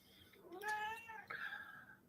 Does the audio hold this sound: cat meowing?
yes